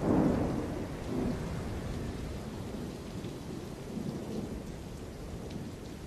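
A sagebrush desert thunderstorm: heavy steady rain hissing on the ground with deep rolling thunder swelling near the start, continuous and fairly loud throughout.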